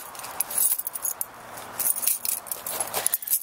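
A bunch of keys for a pickup truck jangles and clinks close by in repeated bursts as they are rummaged for and grabbed, bright metallic rattles scattered across a few seconds.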